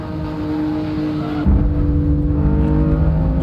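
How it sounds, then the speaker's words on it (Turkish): A BMW M4 engine in the racing game Assetto Corsa drones loud and steady, its tone shifting partway through as the note swells and deepens, with no voices over it. "kamera açısında da arabanın sesi değişiyor"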